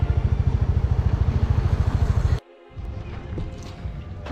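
A motorcycle engine drones with a rapid, steady pulsing, then drops abruptly to a quieter, rougher rumble with wind and road noise.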